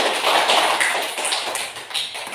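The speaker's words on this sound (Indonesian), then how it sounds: "Tepuk tangan untuk kita semua." A classroom of pupils clapping their hands together, a dense burst of many overlapping claps that stays loud for a couple of seconds before thinning slightly.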